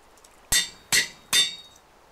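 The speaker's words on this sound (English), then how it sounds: "Put down an anvil" Three sharp, evenly spaced metallic clanks ring out alone against a quiet background as an anvil is set down in a Minecraft-style block game.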